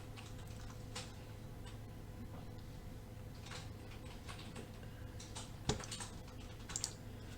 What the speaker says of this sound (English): So we've typed in exit again, enter